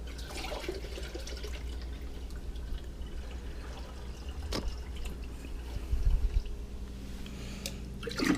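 About a liter of water is poured into a container while culturing phytoplankton for clownfish breeding, a soft, steady trickling and splashing close by, with a louder gurgle and a sharp tap partway through.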